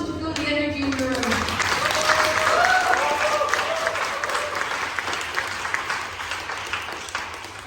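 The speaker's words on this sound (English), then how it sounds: "let's do a round of applause just to feel the energy in the room." A room full of people gives a round of applause at the Future Makers 2023 finale, a dense, steady wash of clapping that carries on for several seconds while voices call out over it.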